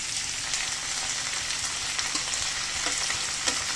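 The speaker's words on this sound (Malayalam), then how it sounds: "കുറച്ച് നേരം നല്ലപോലെ വഴറ്റിയിട്ടാണ് ഇറക്കിയിട്ട്" Masala for paneer curry sautés in a pan with a dense, steady sizzle and crackle, close and moderately loud, with light spatula scrapes and pops scattered through.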